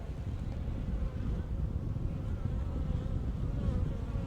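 Honeybee workers being installed into an observation hive give off a dense, steady buzzing hum, close and continuous, with light wind noise and no talking.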